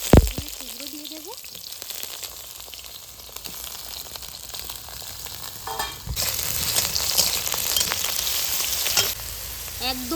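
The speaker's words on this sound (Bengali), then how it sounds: "গরম তেলের মধ্যে টুকরো দিয়ে দেব।" Eggplant pieces hit hot white oil in a kadai with a burst of loud sizzling frying that continues steadily, with stirring scrapes and a brief voice at the start.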